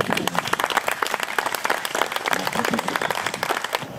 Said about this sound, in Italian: e ci vuole un altro applauso grosso.